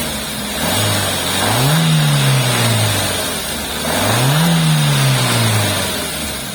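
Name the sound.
Suzuki Baleno K14B 1.4L engine starting up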